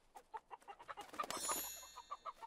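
Cartoon chickens cluck in a quick, regular series of short clucks, with a brief bright chiming flourish in the middle, clear and alone without talk.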